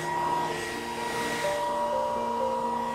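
A hair dryer blows steadily as someone dries their hair, a loud, continuous whooshing airflow with a faint motor whine, heard alone without talk.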